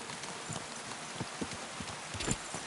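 A horse's hooves clip-clop on a road in the video game Kingdom Come: Deliverance II. The steps are soft and irregular, set against a steady hiss of background noise, close but faint.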